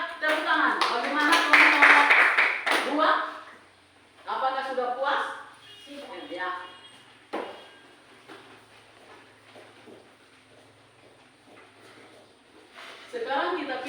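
Students in a classroom give a short burst of hand clapping at the start, followed by quieter scattered sounds and intermittent talking.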